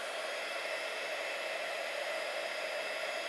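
A heat tool blows hot air onto a spray-painted jar in a home decor project, producing a steady, even whooshing roar that holds unchanged throughout, close and with no voices.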